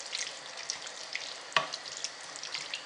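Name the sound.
stirring ingredients for tajine in a pan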